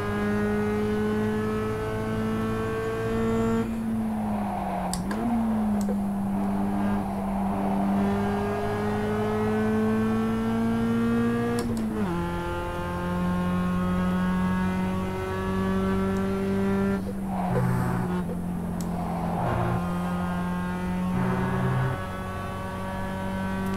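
Mazda MX-5 Cup race car lapping Laguna Seca in the iRacing sim, its engine droning steadily at high revs with several dips and shifts as it brakes and accelerates through corners, continuous and alone.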